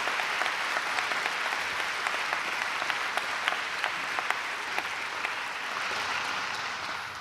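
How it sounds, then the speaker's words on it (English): A large graduation-ceremony crowd at the College of Saint Benedict commencement claps in a sustained, even round of applause, dense and steady with scattered sharper claps standing out, no speech over it. "Please give your families a nod of thanks, a great big round of applause."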